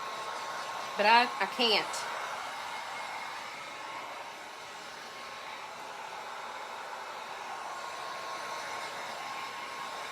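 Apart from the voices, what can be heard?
heat gun blowing hot air to dry paint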